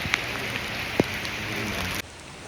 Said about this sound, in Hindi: अभी ऐसी बारिश में, रिमझिम